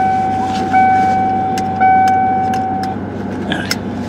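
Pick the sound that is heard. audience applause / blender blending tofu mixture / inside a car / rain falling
inside a car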